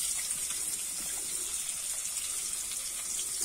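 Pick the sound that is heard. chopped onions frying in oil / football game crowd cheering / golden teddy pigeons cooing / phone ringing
chopped onions frying in oil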